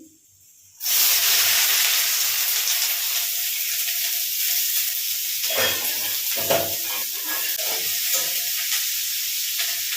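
Onions frying in hot oil in a wok, a loud steady sizzle that bursts in suddenly and holds constant, with occasional stirring scrapes and spatters close by.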